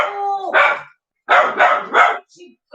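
A pet dog named Sebby barks in a run of loud, close yaps, a first bark then three quick ones after a pause, with a few fainter yips at the end and no talk over them.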